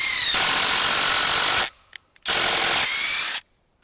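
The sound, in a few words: Bosch impact driver driving screws at speed 2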